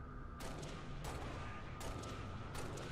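Gunfire in Halo: Reach while shooting jackals on Legendary: four evenly spaced sharp rifle shots roughly three quarters of a second apart, loud over a steady rumbling background.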